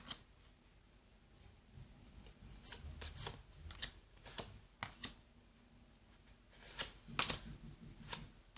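Tarot cards being shuffled by hand in a quiet room, with soft riffling and sharp papery snaps scattered irregularly, clustering near the end; no one speaks.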